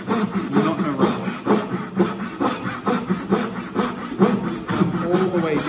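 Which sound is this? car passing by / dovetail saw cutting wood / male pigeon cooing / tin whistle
dovetail saw cutting wood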